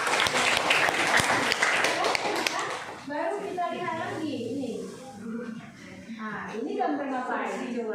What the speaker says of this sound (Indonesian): Ya, tepuk tangan untuk dia.